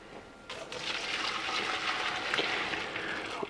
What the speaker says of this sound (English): We're gonna drain our pasta.